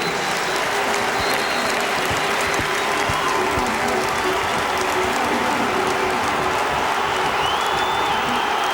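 A football crowd at a Tranmere Rovers v Liverpool FA Cup quarter-final applauding and cheering continuously, a loud, dense roar of clapping that fills the whole stretch without letting up.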